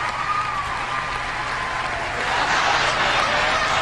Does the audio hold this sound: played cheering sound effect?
yes